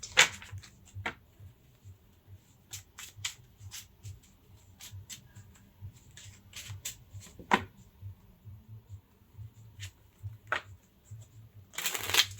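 An oracle card deck shuffled by hand, with soft riffling and slapping card sounds coming in irregular bursts, close and fairly quiet, ending in a louder flurry of shuffling.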